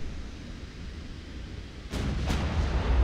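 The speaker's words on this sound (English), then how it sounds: "And we open fire on them." Naval guns in the Ultimate Admiral: Dreadnoughts game fire two loud, booming salvos in quick succession over a steady low rumble of ship ambience, with no talking.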